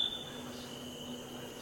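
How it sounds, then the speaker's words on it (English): Snowy tree crickets chirp in a steady, continuous high-pitched drone on a warm summer evening in Ithaca, many insects sounding together at low, even volume. "called snowy tree crickets"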